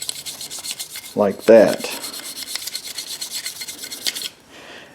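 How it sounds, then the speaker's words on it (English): Bristles of a toothbrush scrub the bolt face of a Glock pistol during cleaning, a close dry rasping in short bursts with two louder strokes near the start, and a voice says a couple of words. "I'll take a toothbrush and just scrub here. I'll scrub the face, the bolt face"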